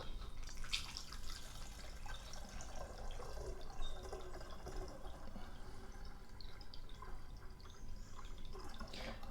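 Water filling a vintage Soda King siphon seltzer bottle from the 1930s or 1940s, a quiet continuous trickling and splashing with small drips, heard alone at close range.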